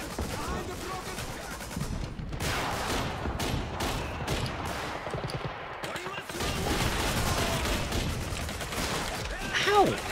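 Video game gunfire in Call of Duty 2, a sustained clatter of rapid shots and bursts that runs nearly the whole time, loud and dense with a short lull partway through, with some speech mixed in.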